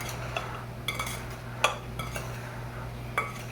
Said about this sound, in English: You mix it up.